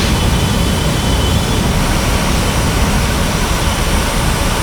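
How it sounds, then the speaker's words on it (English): Airbus jet engines roar at takeoff thrust in Microsoft Flight Simulator, a loud, dense, unbroken broadband rush that holds level throughout with no voices. "this is a Royal Jordanian Airbus lining up on 30 left, ready for takeoff"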